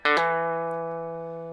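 A guitar plays a blues lick in E: two quick picked notes, then a single tone that rings on and fades slowly, close and clear with nothing else around it.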